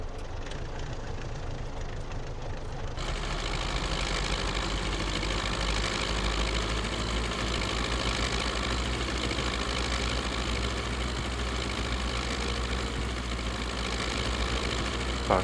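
An MTZ-82 tractor engine in Farming Simulator 19 starts up and settles into a steady, close, mechanical idle that runs on its own without speech.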